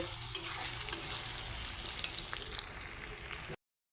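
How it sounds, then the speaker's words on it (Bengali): Chopped onions frying in hot oil in a pan for a mutton head curry, giving a dense continuous sizzle, close and fairly loud, with faint stirring, cutting off abruptly near the end. "তো আমি এখন পেঁয়াজটা লাল লাল করে ভেজে নেব"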